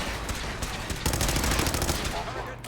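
Dense rapid gunfire fills a synth ambush in Fallout 4, an automatic weapon rattling in a continuous loud burst that thickens about halfway through, with a voice faintly mixed underneath.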